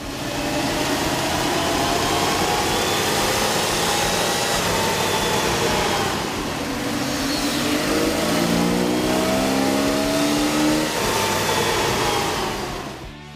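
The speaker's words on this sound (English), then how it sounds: "With the air intake installed, we ran the vehicle on the dyno to test the sound comparison versus the stock intake" A 1997 Jeep Wrangler with the 4.0 engine and a K&N air intake runs on a dyno, roaring loud and steady as it climbs through the revs, dips briefly, then pulls up again with rising whine and intake rush.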